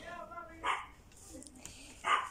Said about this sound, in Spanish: mi perrito está ladrando porque me extrañaba mucho